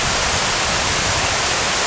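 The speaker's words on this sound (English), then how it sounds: "all the white water bubbling through, just perfectly bubbling right across the whole width of it" Benlister Falls pours white water through its rapids, a loud, dense and unbroken rush of bubbling water close by.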